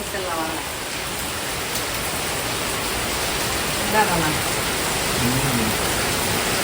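Steady heavy rain pours continuously as a dense, even hiss with water running nearby, filling the whole stretch without pause; faint voices are barely present beneath it.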